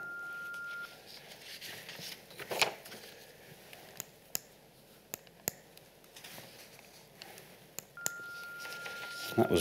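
A synthesized tone built from a sine wave summed with its fifth harmonic sounds briefly at the start and again near the end, with scattered clicks and soft handling noise in between.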